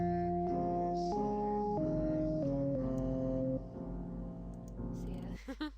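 A synthesized sung melody plays back at half speed, slow sustained harmonic notes stepping in pitch for several seconds, loud and continuous, then thinning out and ending in a few short blips.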